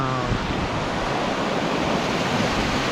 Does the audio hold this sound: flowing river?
yes